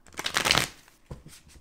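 Shadowscapes tarot cards being shuffled off to one side, a soft riffling burst of papery flicks followed by a few quieter slaps and rustles, fairly near and without voices.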